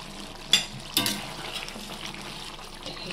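Chicken with kasuri methi (dried fenugreek leaves) is stirred in a pan. A spoon knocks sharply against the metal twice, then light scraping and soft sizzling carry on close by, with no voices.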